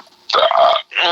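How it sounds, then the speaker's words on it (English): A loud, close burp lasting about half a second, followed after a brief gap by a short voiced sound. "Burps."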